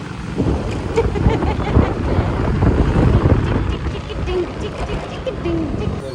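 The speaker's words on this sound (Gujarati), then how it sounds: "પવન લાગે છે." Gusty wind buffets the microphone with a rumbling, uneven roar, and voices talk over it from time to time.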